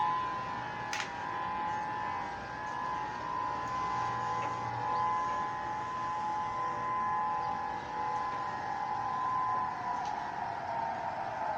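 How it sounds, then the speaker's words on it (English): Honolulu civil defense siren test on Oahu, Hawaii: a long, steady wail that holds its pitch and then begins to sweep downward near the end, loud and continuous over faint outdoor traffic noise. "the siren test today"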